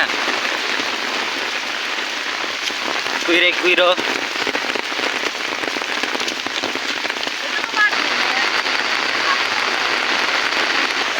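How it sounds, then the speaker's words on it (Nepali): Steady rain falling in a forest on a hiking trail near Kathmandu, a dense continuous patter close by, with a few brief voices and a bird call breaking through. "अब पानी पर्यो"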